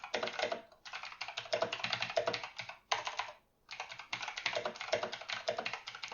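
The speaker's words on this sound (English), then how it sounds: "I'm going to actually type this in here poorly" Fast, uneven typing on a computer keyboard, dense clusters of close key taps broken by two short pauses, with no talking.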